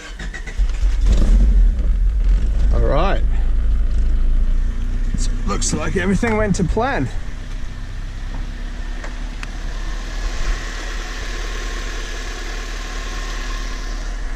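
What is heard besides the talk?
car engine starting and idling after battery relocation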